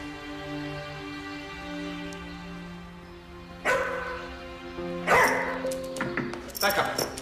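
A dog barking at a visitor at the door, a few sharp barks and yips near the end, close by amid people talking and shuffling.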